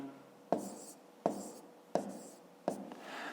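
Handwriting numbers while working a multiplication problem in column form, four sharp pen taps on paper about every 0.7 seconds, each followed by a brief scratchy stroke, close and fairly quiet with no talking.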